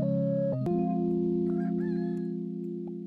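A rooster crows in a steady, drawn-out call with a few extra chirpy sounds layered in, clear and close, in the video game Super Auto Pets.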